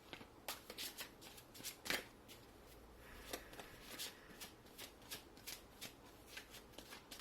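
Tarot cards being shuffled by hand, a quiet, close series of crisp riffling flicks and soft slaps in an irregular rhythm, with no talking.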